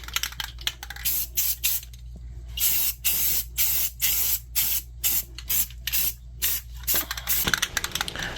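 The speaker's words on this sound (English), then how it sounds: "So let's give this primer a shake and start our first application." Aerosol can of primer spraying a boat's Seastar Classic hydraulic helm pump, loud close hissing bursts repeated in a steady series of short sprays with brief pauses between them.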